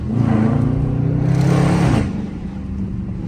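A Dodge Charger R/T with a 5.7 V8 roars loudly through its exhaust while accelerating hard in first gear. The engine note climbs steadily for about two seconds, then the revs drop back to a lower, steady rumble.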